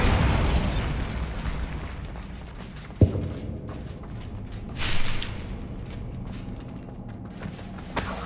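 In Hogwarts Legacy, a Bombardo blasting spell sets off a sharp explosive burst, followed by smaller pops and rumbling debris, moderately loud against quiet ambience.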